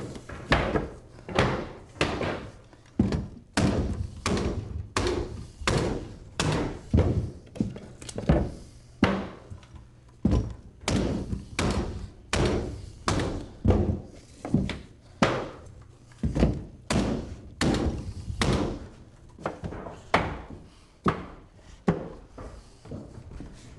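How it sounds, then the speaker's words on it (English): Side nailer driving fasteners into hardwood flooring, a long run of sharp, loud thunks repeating in a quick, steady rhythm, each strike clear and close. "Dale is able to once again pick up speed with the side nailer."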